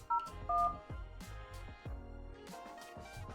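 Telephone handset keypad dialing tones keyed in to log an agent into a Switchvox phone queue: a quick run of separate DTMF beeps, clear and close, with a soft low hum underneath and no talk.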